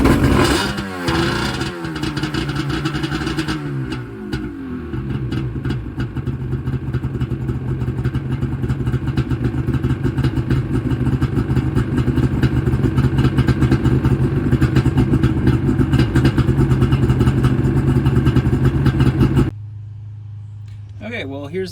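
A jet ski engine after a carburetor rebuild sputters through a few cranks, then catches and runs at a loud, steady idle for most of the time before cutting off near the end, with a voice talking over it.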